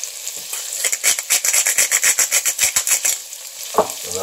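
Onions and garlic frying in a pan, stirred with a rapid rhythmic scraping of about a dozen even strokes over a hissing sizzle, close and loud, ending in a single louder knock.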